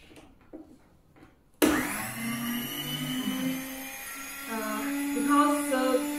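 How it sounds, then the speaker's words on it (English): A Laikeda kitchen appliance motor set to 7th speed starts abruptly after a quiet moment with faint talk, then whines loudly and steadily up close, its pitch wavering slightly as it runs. "I will show you its powerful motor, its powerful heart"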